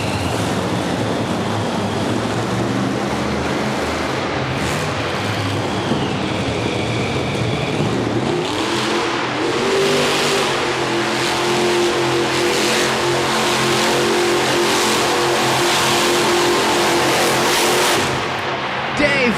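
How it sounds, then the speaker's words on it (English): A monster truck revs and roars across the floor of an arena at the Monster Nationals in Corbin, Kentucky, a steady loud engine drone with crowd noise while an announcer talks throughout. "Dave really doing a nice job on the floor of the arena in the Star Marshal truck, really varying some of his hits up, carrying great momentum."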